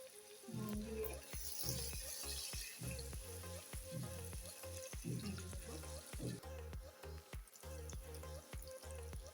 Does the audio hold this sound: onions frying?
yes